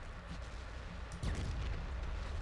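Cannon fire in the game Battlefield 1942, pirate-themed capture-the-flag map Cut Throat Creek: one sharp, loud boom near the middle, followed by a rumbling decay over steady game noise.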